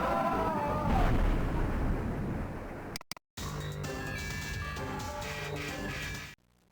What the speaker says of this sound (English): An explosion tears through the control room as Stephen Lang's gunship hits the huge view screen